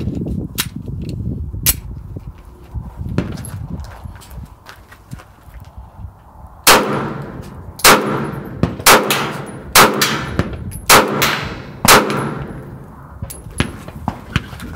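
A SIG pistol fires a quick run of sharp, loud shots in succession after a quieter opening stretch, each crack distinct and close, with no one speaking.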